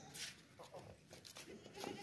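A goat bleats faintly at a livestock market, with short, wavering calls mixed into quiet background chatter of people talking.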